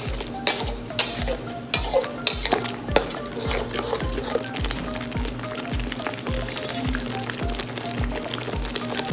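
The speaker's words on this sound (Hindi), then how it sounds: "प्याज थोड़ा भून लेंगे इसमें, ताकि इसका कच्चापन जो है वो ख़त्म हो जाए। ये बबल बन रहे हैं, इसको हिलाते रहें आप।" Onions frying and being stirred in a karahi for chicken onion karahi, with repeated spoon scrapes and clinks against the metal pan over a steady low sizzle, close and fairly loud.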